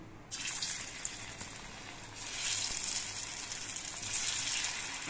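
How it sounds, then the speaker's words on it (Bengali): Jackfruit seed dhoka fry in hot mustard oil with a close, steady sizzle that swells partway through, crackling continuously with no voices. "এবার এই কাঁঠালের বীজ দিয়ে তৈরি করা ধোকাগুলো ভেজে নিচ্ছি।"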